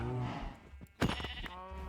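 Sheep in Minecraft bleat close up, two or three wavering calls in quick succession, with no talk over them.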